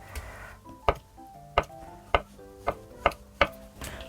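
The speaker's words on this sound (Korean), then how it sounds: "요거 좀 오랫동안 끓일 거라서 두툼하게 썰어주세요" A knife chops zucchini and tofu into thick pieces on a cutting board for a blue crab doenjang stew, six crisp, evenly spaced chops ringing out close and clear with no talking.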